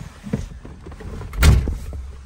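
A car door on a restored 1979 Corvette Stingray T-top shuts with a single solid thunk midway through as the driver climbs in, after some quieter rustling and shuffling beforehand.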